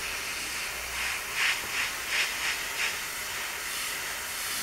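Airbrush hissing at low air pressure while khaki brown paint goes onto a Bandai 1/48 scale AT-ST model kit: a steady soft hiss with several short, slightly louder spurts of spray, fairly close.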